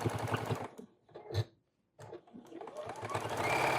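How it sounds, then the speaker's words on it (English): A sewing machine runs straight top stitching around a flannel coaster made from fabric scraps, with steady rapid stitching bursts broken by short pauses and a longer run at the end. "I'm just going to run a little straight top stitch around"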